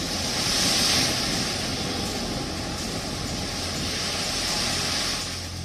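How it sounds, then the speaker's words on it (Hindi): High sea waves surging along the Mumbai shore ahead of a cyclone, a loud, continuous wash of surf mixed with wind rumble that swells and fades gently, with no talking. "हम देख रहे हैं कि मुंबई के समुद्र में काफी ऊंची लहरें जो हैं वो फिलहाल दिखाई दे रही हैं।"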